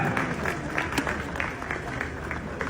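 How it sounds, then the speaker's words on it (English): A crowd applauds Wodemaya at a gathering in Ghana, a continuous patter of clapping with rhythmic accents, moderately loud and close, with faint voices underneath. "A round of applause for Wodemaya"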